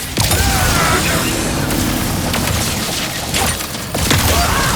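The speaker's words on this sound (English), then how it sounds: "The Shatter Bomb is a frag-type grenade that deals a lot of damage to your foes." Shatter Bomb frag grenade explosions in the Ratchet & Clank video game, a dense barrage of booming blasts and crashing debris that runs loud and continuous throughout.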